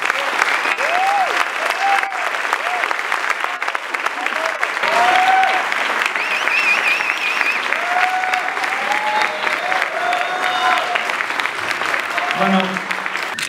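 A crowd applauds loudly at the closing ceremony of the Feratum film festival, with sustained clapping mixed with voices and scattered cheers that rise and dip over the whole stretch.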